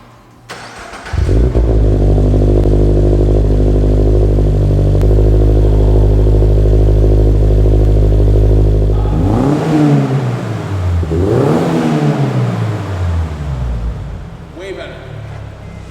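A 2022 Subaru BRZ with a new aftermarket exhaust fires up with a sharp start, holds a loud, steady rumbling idle, then rises and falls through several throaty revs, recorded close at the tailpipe.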